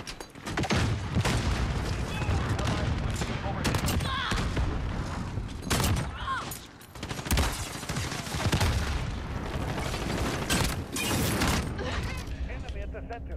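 Shotgun blasts and other gunfire in Modern Warfare 2019 on a small multiplayer map, loud repeated booms and clattering mechanisms in a busy mix, with a player's voice talking over the action.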